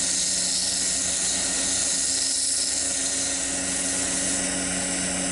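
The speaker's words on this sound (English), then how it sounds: "Right, just sanding it down to 400 and put some sanding sealant on it." Banksia on a wood lathe being sanded at 240 grit, a steady high whirring hiss from the spinning workpiece and abrasive, continuous and close throughout.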